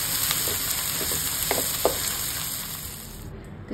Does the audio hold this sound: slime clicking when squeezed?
no